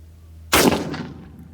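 A single sharp, loud rifle shot from an M40 Gen II with stainless steel internals on a range at 300 yards, with a short decaying echo and no talk.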